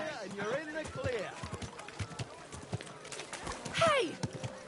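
A horse in the medieval video game Kingdom Come: Deliverance II trots with a quick run of clip-clop hoofbeats and gives a shrill neigh near the end, with voices murmuring underneath.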